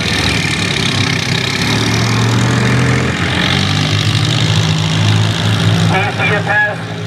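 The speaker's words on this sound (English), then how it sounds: "It's the case 400 of Warren Townsend." A Case 400 farm tractor in a 6,000 lb farm class pull roars loudly and steadily throughout, its heavy engine drone joined by an announcer's voice over the loudspeaker.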